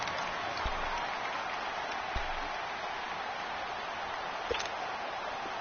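Steady crowd roar from a Madden football game stadium ahead of a big third down, a continuous wash of cheering with a few brief sharper bursts, no talk over it.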